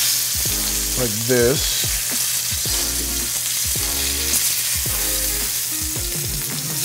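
A cod fillet is flipped in a hot frying pan and sizzles loudly and steadily throughout, with someone talking briefly over the frying.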